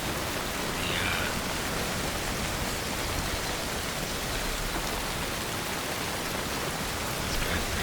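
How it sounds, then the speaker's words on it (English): Steady rain falling in the survival video game Soulmask, a dense, even wash of drops hissing across the whole clip at a constant moderate level with no talk over it. "I like the way that the rain comes in like a sheet when you can just watch it."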